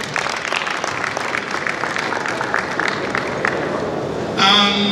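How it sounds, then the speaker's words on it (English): Dense, steady audience applause at a state government tribute day honoring an elder statesman, a continuous wash of many hands with crowd murmur underneath, ending abruptly as a tone cuts in. "let's give a round of applause"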